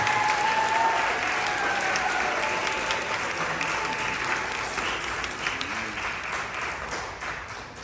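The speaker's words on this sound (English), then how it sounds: "Give another round of applause, everybody, for the show." A crowd claps for a show, a broad, sustained wash of applause from many hands that holds steady and then gradually thins and fades toward the end.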